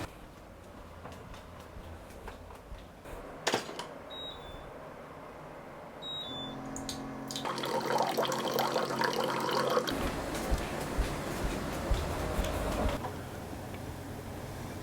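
Water running from a tap to refill a bottle, a steady hiss of flow that swells in the middle and then stops, preceded by a couple of short beeps and handling clicks in a quiet room.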